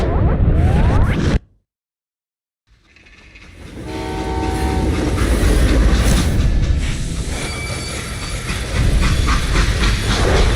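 A train running in the Western video game Call of Juarez: a loud rumbling, clattering railcar roll with hissing steam and a whistle tone, after a brief cut to silence, then building back to a steady heavy roar.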